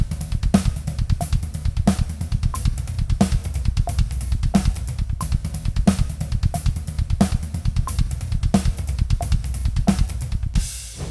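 Drum kit groove with steady closed hi-hat played in a hand-to-hand rudiment pattern and a snare backbeat on beats 2 and 4, even and moderately loud throughout, no talking.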